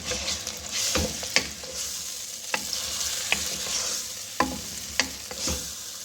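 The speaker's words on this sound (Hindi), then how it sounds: "कीमा डालेंगे, जो धोया हुआ साफ किया, और अदरक लहसुन का पेस्ट ये मिला के तो भूनेंगे।" Minced meat mixed with ginger garlic paste fries in a pan with a steady sizzle, punctuated by several sharp scrapes and clacks of a spoon stirring, close and moderately loud, no voices.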